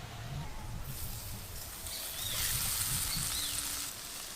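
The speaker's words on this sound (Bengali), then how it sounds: "ওই হালকা গরম তেল এবার মশলার উপরে দেব" Warm oil poured over spices, kasuri methi and roasted gram flour for paneer tikka gives a soft, steady sizzle that swells slightly midway, faint and close with no talk.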